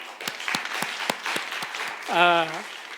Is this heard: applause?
yes